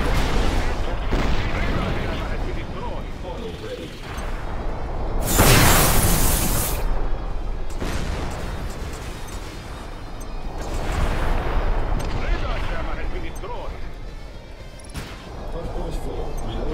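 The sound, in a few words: anti-aircraft gunfire in video game Project Wingman: Frontline 59 / Nimbus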